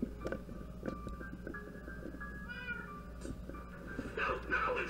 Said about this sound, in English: Winslow, bad kitty, stop it